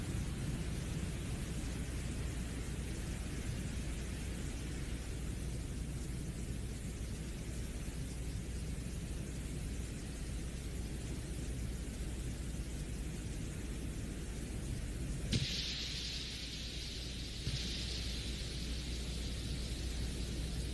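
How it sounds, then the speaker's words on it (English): Broadband roar of wind and static recorded by the Venera 14 lander on the surface of Venus, a steady hiss with low rumble lasting throughout, with a brief brighter burst near the end. "this should be the sound, the actual sound of the lander"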